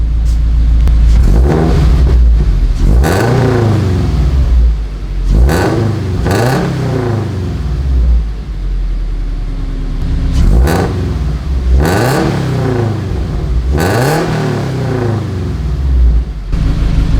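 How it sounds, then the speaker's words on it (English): A Subaru FR-S fitted with a UEL header is revved close by, its engine climbing and falling in a series of loud throttle blips separated by a burbling idle, with no voices. "So what I'm gonna do is I'm gonna give it a few revs."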